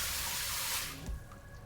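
Water running from a tap in Trüberbrook, a steady hissing stream that flows at moderate loudness, then cuts off abruptly with a faint knock and quiet room tone after.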